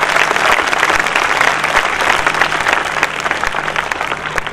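A congregation claps during a church service with a Hindi sermon, producing loud, dense, sustained applause from many hands that carries on without a break.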